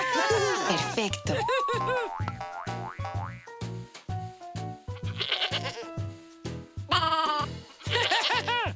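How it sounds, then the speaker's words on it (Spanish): A goat bleats in playful, wavering cries from a children's farm-animal learning program, several calls set over bouncy background music that runs continuously. "Cabra."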